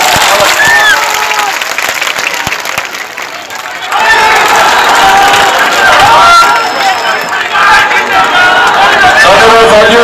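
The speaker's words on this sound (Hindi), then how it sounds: "एक बार जोरदार ताली बजा दीजिए" A large crowd at a political rally in Bihar claps and cheers, quieter and scattered at first, then swelling into loud, dense applause with shouts and babble halfway through.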